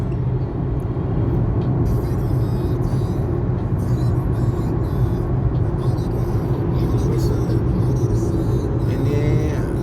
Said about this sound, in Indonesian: Kendaraannya padat.